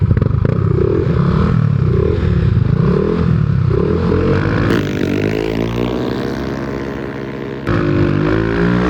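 Modified Aerox 155 and Click 125 scooters with tuned CVTs race, their engines droning loudly and continuously, pitch rising and falling with throttle before climbing in a long sweep near the end.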